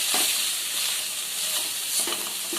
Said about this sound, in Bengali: এবারে মশলা দিয়ে আরেকটু নাড়বো।